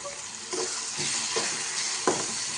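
Turmeric powder is stirred into salted tomatoes frying in a pan for a spicy prawn dish: a steady bright sizzle runs throughout, broken by a few distinct scraping strokes of the spoon, close and fairly loud, with no voices.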